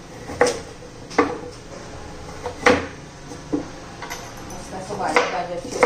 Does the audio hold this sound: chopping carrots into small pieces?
yes